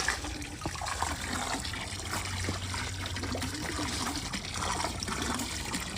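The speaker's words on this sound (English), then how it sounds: "Reviving this water fountain." Steady trickling and splashing water from a pool water fountain fills the clip, a continuous close-by dribble with faint background hum and no talking.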